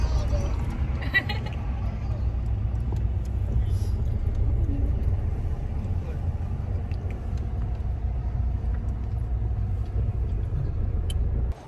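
A car driven in the Scottish Highlands behind a road construction convoy vehicle gives a steady low engine and road rumble from inside the cabin, continuous and even, with a brief click early on.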